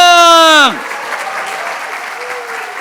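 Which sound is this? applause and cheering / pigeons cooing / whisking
applause and cheering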